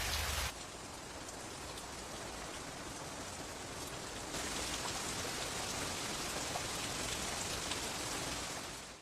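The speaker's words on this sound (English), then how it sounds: "It's really pouring." Heavy rain pours steadily in the game Arc the Lad 3, a dense, continuous downpour that swells louder partway through, with no voices over it.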